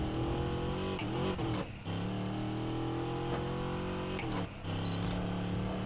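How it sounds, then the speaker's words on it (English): A car engine in Need for Speed Payback revs hard under nitrous while downshifting, a sustained buzzing drone with a few brief drops and spikes, fairly quiet overall. "spamming nitrous while I'm downshifting"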